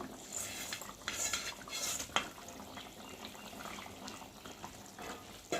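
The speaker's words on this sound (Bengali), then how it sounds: "এখন মাছগুলো আমি এর মধ্যে ঢেলে দেবো" Fish going into a pot of simmering potato-eggplant curry, with clinking utensil and pot knocks, a sharp clatter near the middle, and a bubbling, watery wash underneath throughout.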